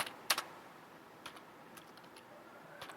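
Fingers type on a computer keyboard while a Python command is entered, with a few sharp key clicks at the start and then scattered light taps, quiet and close in an otherwise hushed room.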